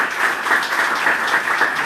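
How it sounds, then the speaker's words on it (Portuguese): Brisk applause from a gathered crowd at an event against antisemitism and discrimination in São Paulo, a loud, dense, even patter of many hands clapping throughout, with no voices over it. "palmas."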